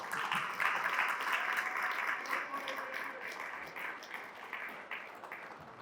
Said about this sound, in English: let's hear it for Landon, everyone